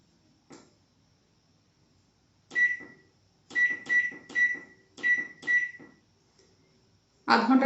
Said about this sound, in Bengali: আধ ঘন্টা দিলাম, মাইক্রোওভেন স্টার্ট করে দিলাম